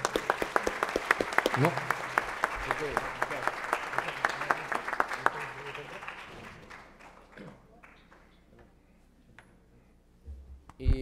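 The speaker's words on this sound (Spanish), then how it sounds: "a pedido a todos ustedes un fuerte aplauso para Renzo" Audience at a labour law seminar applauds for Renzo, a steady burst of clapping lasting about six seconds before fading into quieter room noise and a brief spoken word.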